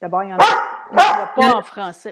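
A pet dog named Grugeot barks loudly and close, two or three sharp barks and yips in quick succession, mixed with someone speaking French over them indoors.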